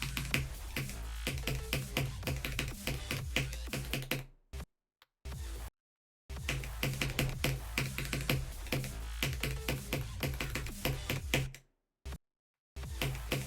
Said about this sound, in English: I'm playing on the keyboard looting